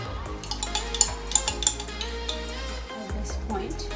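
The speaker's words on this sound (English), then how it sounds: "stir it around. Let it simmer open." Coconut milk being stirred into a vegetable stew in a pot, a spoon scraping and clinking against the metal in an uneven rhythm of soft knocks under a low steady hum.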